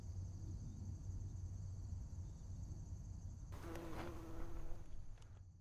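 Bees and other insects buzz steadily around the fragrant flowers of camel grass growing beside a soybean field, a faint continuous hum with a closer, brighter buzz passing by near the end.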